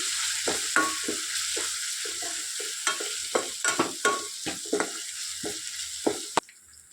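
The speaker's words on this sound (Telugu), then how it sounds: "1 టేబుల్ స్పూన్ వేసుకొని పచ్చి స్మెల్ మొత్తం పోయేంత వరకు బాగా ఫ్రై చేసుకోవాలి." Ginger garlic paste frying in a pan on a cooking curry, a steady close sizzle broken by repeated scraping stirs, ending in a sharp clack.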